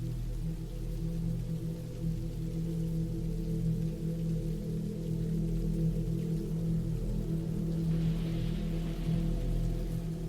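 Steady rain falls continuously, a soft broad hiss over a low rumbling wash, even and unbroken, with no voices.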